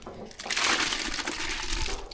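Washed lentils tipped into a pot of hot water while cooking sambar, a steady watery pouring and splashing rush lasting a couple of seconds, close and fairly loud.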